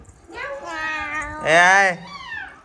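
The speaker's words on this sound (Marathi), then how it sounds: "म्याव म्याव म्हणते पिवडी" A pet cat named Pivdi gives a few drawn-out, rising and falling meows close by, the middle one loudest.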